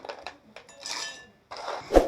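Dried red chillies drop into a mixer grinder jar, a few light dry taps and rattles followed by a sharper clink of the jar, close and brief.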